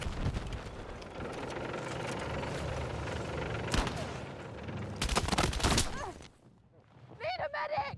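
Bursts of automatic rifle fire from an AK-205 in Battlefield 6, with loud volleys near the middle and a dense fusillade late, over a continuous battlefield rumble and engine noise, with voices talking under the action.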